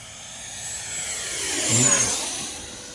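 An RC model jet comes in to land, its turbine whine rising gradually from a distance to a loud near pass and then easing off, with no talking.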